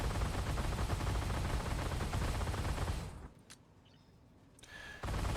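Flakpanzer Gepard autocannon firing high-explosive rounds in a tank video game, a loud dense stream of rapid shots for about three seconds, then a short lull before firing resumes.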